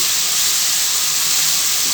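Lightly fried koi fish hit hot frying spice paste in a pan, sending up a loud, steady, hissing sizzle that runs unbroken and close throughout.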